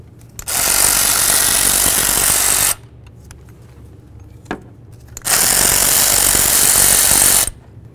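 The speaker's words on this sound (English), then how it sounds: "let's continue to remove our two mounting bolts" A power tool backs out the EGR valve mounting bolts on a Chevy S-10, running loud and close in two steady bursts of about two seconds each, separated by a short pause with a single faint knock.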